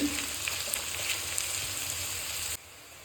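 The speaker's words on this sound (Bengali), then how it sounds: "আমি এখানে এই ফোড়ন যা আছে গোটা মশলা সেটা দিয়ে দেবো মাঝখানে" Whole spices tempering in hot oil in a home kitchen, giving a steady, close, crackling sizzle that runs evenly and then drops off sharply near the end.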